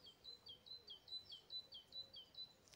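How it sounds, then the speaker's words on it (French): Birds sing in a quiet, untouched countryside setting near old forgotten fields, with a string of high, repeated chirps and whistles, faint and somewhat distant. "Vous avez que les oiseaux, la nature, sans l'empreinte de l'homme."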